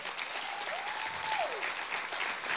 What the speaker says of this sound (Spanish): Vamos, dale un aplauso.